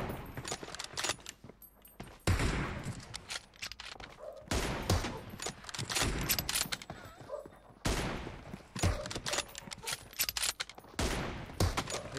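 Gunfire in the mobile battle royale game PUBG Mobile: repeated loud bursts of rapid automatic shots with short gaps between volleys, close and sharp.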